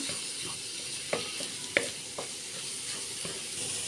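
Shrimp sizzle in a pan for Filipino fried rice with egg, a steady close hiss broken by a few sharp pops and light clicks.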